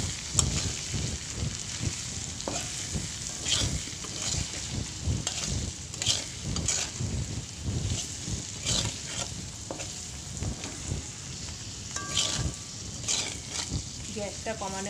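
Potatoes with salt and turmeric stirred and frying in a pan over low gas, soft sizzling broken by repeated scraping strokes of a spoon.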